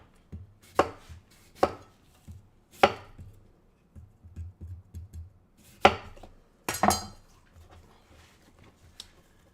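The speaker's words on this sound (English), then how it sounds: "You can do apple slices." A knife slices apples on a cutting board for a fruit plate: a close series of sharp, irregular chops and thuds, with a few louder cuts standing out.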